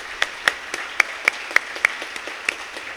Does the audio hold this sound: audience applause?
yes